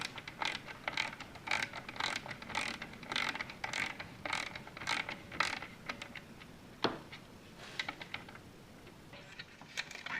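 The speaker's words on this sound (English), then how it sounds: "get your Torx to go ahead and remove the trim ring" A Torx driver works at the screws of a headlight trim ring on a Jeep Wrangler JK, giving a quick series of light, ratcheting clicks and taps with a sharper knock near the end, close and fairly quiet.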